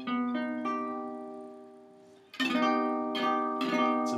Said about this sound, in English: It's a minor major 7th chord